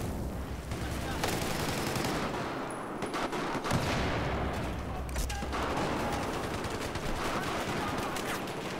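Battlefield 4 multiplayer gunfire, a continuous dense fusillade of rifle shots and booms layered over a busy battlefield din, steady and loud throughout with scattered sharper cracks.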